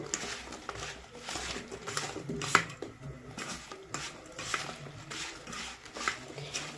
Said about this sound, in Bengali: আমি এখানে নরম কলা তো একদম এটা তেলেই কষে নেব